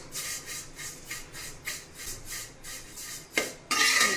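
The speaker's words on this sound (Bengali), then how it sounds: "খুন্তি বা নাড়ুনি দিয়ে এভাবে একটু হালকা হালকা করে নেড়ে নিয়ে নেবেন।" Vermicelli being fried and stirred with a spatula in a pan, a regular rhythm of close scraping strokes about twice per second, ending in a louder clatter and a harsh sustained scrape.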